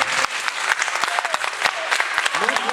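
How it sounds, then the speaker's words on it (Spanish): Loud, dense applause from a theatre audience for a magician at a school stage show, hearty clapping filling the whole moment with a voice briefly audible near the end. "Un aplauso fortísimo para o noso gran mago."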